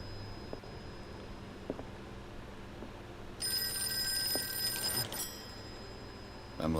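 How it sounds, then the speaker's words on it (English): A telephone rings inside the PS5 game Call of Cthulhu: one clear, bright burst lasting under two seconds, rising over a quiet room-tone drone with soft ticking thuds before and after, no voices present. "A phone is ringing."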